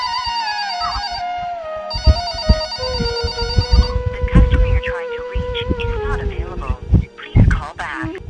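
A telephone rings out repeatedly in a steady tonal pattern while an outgoing call is placed on a TV singing show stage, with voices and background sound rising over the ringing in the later part.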